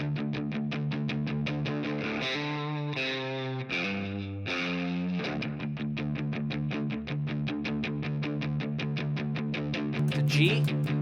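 Electric guitar plays the main progression of a blues song, a steady rhythmic strummed riff with a mildly distorted tone, continuous and prominent with chord changes, no talking.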